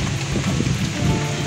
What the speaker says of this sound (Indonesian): Hujan guys, lagi syuting hujan gede.